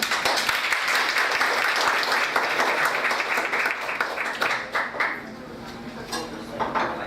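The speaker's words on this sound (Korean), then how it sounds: "큰 박수를 이렇게 맞아주시면 고맙습니다." At a seminar for an alumni association's monthly meeting, the audience welcomes a speaker with loud, dense clapping that thins and tapers off toward the end.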